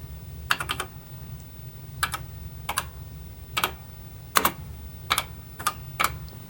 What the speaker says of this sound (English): did you see how badly the keyboard's bouncing?